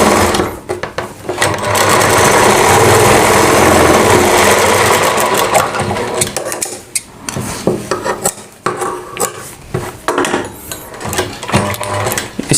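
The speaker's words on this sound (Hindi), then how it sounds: "इसके बाद हमें इसके ऊपर सिलाई लगा देनी है।" A sewing machine runs loud and fast, stitching a kanchli blouse in one long continuous burst, then stops and restarts in short bursts with small clicks and handling sounds.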